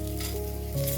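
A Rajasthani paratha sizzles steadily on a hot dosa tawa after being flipped, a close, continuous frying crackle with a faint scraping tone near the end.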